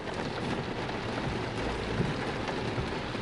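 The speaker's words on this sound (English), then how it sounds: "It's raining." Steady rain patters continuously during a road trip, a dense even hiss of drops with a low rumble underneath, no voices.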